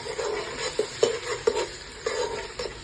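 Ginger garlic paste frying in a pan with onions while a spoon stirs it, steady close sizzle broken by several sharp scrapes and clinks of the spoon against the metal.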